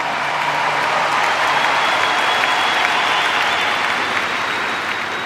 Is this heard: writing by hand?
no